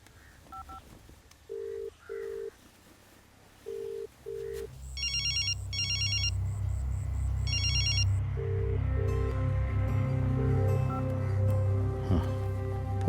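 A telephone rings unanswered in a tense scene from the Tamil film My Lord: paired electronic ring tones repeat several times, with brighter high beeps in between, over a low rumbling background and no speech.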